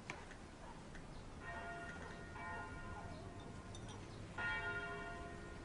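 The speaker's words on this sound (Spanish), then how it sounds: "Me gustan las campanas." Church bells ring in a quiet indoor setting, their tones swelling in two or three clear waves over a low background hush, fairly faint and distant with no talk.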